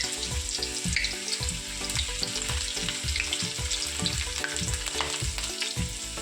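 Chopped garlic and ginger fry in hot oil in a pan while being stirred, a loud continuous sizzle broken by rhythmic scraping strokes of a spatula, close up with no talking.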